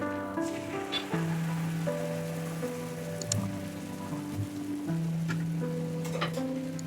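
Ground mustard paste hits hot oil in a pan for a drumstick curry. It gives a steady crackling sizzle like light rain, moderately close, with soft background music throughout.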